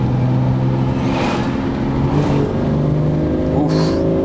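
Ferrari 412 engine running through a Fiat 130 transmission selector, a steady close drone with some swells and rising pitch as it revs and accelerates, alone without talk.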